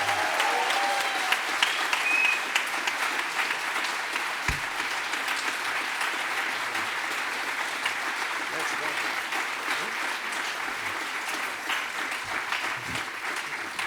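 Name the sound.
audience applause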